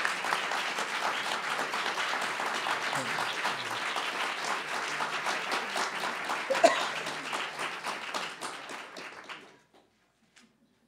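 A large audience claps warmly after a panel discussion on media access to evidence, sustained applause filling the room for several seconds before tapering off and fading to silence, with some voices mixed in.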